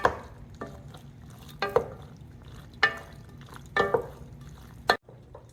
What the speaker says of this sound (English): Melanzane in two, and give it a good stir.